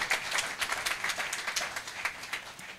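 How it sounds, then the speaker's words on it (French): An audience at a pastor's funeral breaks into steady, sustained applause for the consecrated pastor, many hands clapping together from a moderate distance with no voices. "Je pensais qu'on pouvait acclamer ça."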